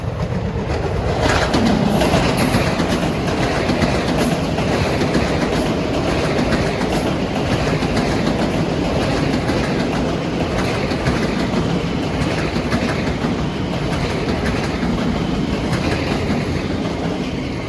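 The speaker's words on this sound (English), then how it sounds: "Coming in at 7:04 is train 507 from Oyster Bay to Jamaica, coming off the branch" Long Island Rail Road commuter train at Mineola during the morning rush on a triple-track line, rolling past close and loud with steady clickety-clack from the wheels over rail joints and a faint squeal early on.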